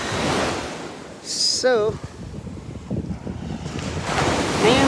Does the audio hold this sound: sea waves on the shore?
yes